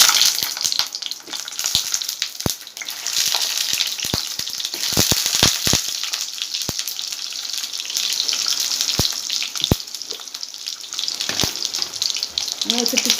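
Pointed gourd sizzling and frying in hot oil for an Odia potala rasa curry, a steady close crackle with scattered sharp pops and occasional stirring clinks, no talking.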